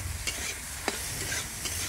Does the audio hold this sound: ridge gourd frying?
yes